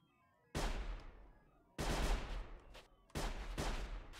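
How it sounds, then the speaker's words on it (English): Robot enemies firing guns in the stealth game Sir, You Are Being Hunted: three loud bursts of gunfire, each a sharp crack trailing into rolling echo and decay, spaced about a second and a half apart with no talking. "But I ain't gonna stay to figure out what they're shooting at, because none of those are landing near me"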